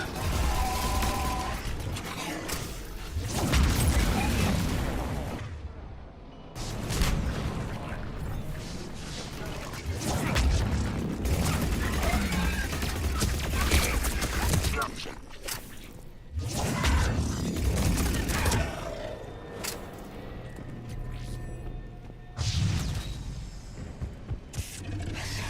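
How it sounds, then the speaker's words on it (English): Explosions and gunfire in the video game Mass Effect 3 come as loud, broadband bursts and crashes, several separate blasts with rumbling decay between them, over continuous game ambience. "the explosion was big enough"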